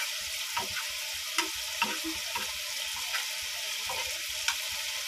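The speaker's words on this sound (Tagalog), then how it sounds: "So, lutuin lang natin yung gulay." Tomato and onion cook in a pan, a soft steady sizzle with sparse light clinks and stirring taps spread through, fairly quiet and free of speech.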